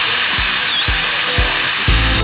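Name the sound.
brushing out the inside of a Bilstein shock absorber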